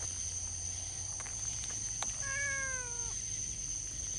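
A single short cat meow sounds outdoors at moderate distance, cutting through a constant high insect-like whine and low background hum, with a few faint clicks just before it.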